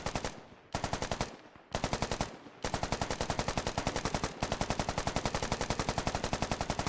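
Sustained rapid rifle fire in a military shooter, Marines defending a mountain firebase against Russians in the hills of Kohat; dense, loud automatic bursts crackle almost continuously, with only brief gaps early before a steady unbroken stream.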